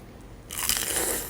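A close, loud crunch of someone biting into crispy battered fried chicken wings with Caesar dressing, a sudden crisp burst after a quiet start that lingers as brittle crackling.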